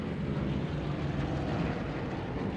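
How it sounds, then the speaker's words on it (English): Three Vought F4U Corsair fighters roar past on a simulated strafing run at an air show, moving from right to left as a loud, steady, close engine drone. "we have had 3 of the flyable Corsairs in the air at one time, and they're coming at you from the right to the left"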